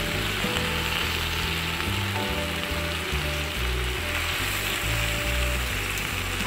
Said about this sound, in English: So I'm adding my spinach in there now.